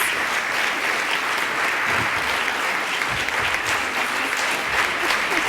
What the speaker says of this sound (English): they deserve such a round of applause for what they've done for this